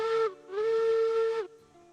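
Steam locomotive whistle in the train game Railroads Online: two loud, near blasts, a short one and then a longer sustained one, with a faint hiss trailing off after.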